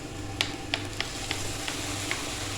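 Soy sauce hits a chicken bread-roll filling in a hot pan, giving a steady close sizzle. A few sharp clicks of stirring break through it.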